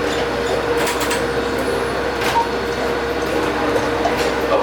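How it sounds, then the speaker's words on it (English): Dubai Palm monorail train running, a steady broadband rumble and hiss of the carriage in motion, continuous and fairly loud throughout with no talk. "Time for me to head back and catch the last monorail back to the mainland."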